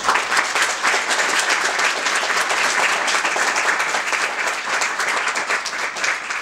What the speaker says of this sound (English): So I say that to give Nolan another round of applause.